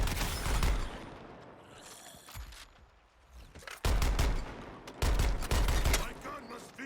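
Gunfire from a weapon in the Suicide Squad: Kill the Justice League video game, loud rapid bursts in several clusters, with game sounds and a voice speaking between them.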